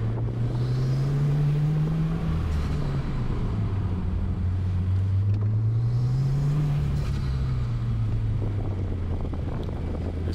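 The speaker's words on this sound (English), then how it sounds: "I got the engine bay noise piped back in." Engine sound from a 2020 Subaru WRX on an autocross course, heard close and steady under wind rush, its low drone rising and falling as the car speeds up and slows through the course.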